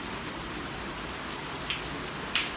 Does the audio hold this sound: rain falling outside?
yes